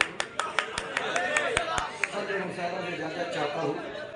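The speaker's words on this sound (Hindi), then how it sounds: "इस वक्त तो आप हजरात की तालियों की गूंज में इस्तकबाल फरमा लें" Audience applause at an All India mushaira, a string of sharp distinct claps in an uneven rhythm that thins out and fades under a murmur of crowd chatter and talk.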